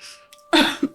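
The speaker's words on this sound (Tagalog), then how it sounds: "nagising dahil sa malakas na ubo" A woman coughs loudly in a dramatic scene, one harsh, close burst followed by a shorter catch, with a faint breath before it.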